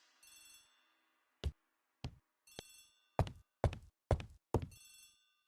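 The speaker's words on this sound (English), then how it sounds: "The telephone in the hall is ringing." A telephone rings in the hall of a house in the Agatha Christie game The ABC Murders: a series of bright, bell-like rings, some drawn out and some clipped short, clear and distinct with silent gaps between them.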